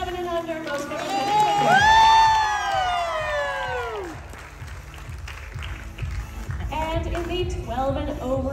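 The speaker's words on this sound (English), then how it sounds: "Big round of applause to your 11 and under most photogenic." An audience at a regional dance competition cheers and applauds for a photogenic award winner, high whoops and shouts swelling at first, then easing into mixed clapping and crowd noise, with voices calling out.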